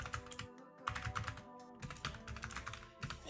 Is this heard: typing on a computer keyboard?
yes